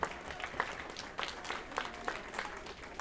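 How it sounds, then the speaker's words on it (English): A small audience gives a brief round of applause for a volunteer at an evening show, the clapping scattered and fairly faint with individual claps standing out. "Give Kevin a round of applause as he brings me the cube."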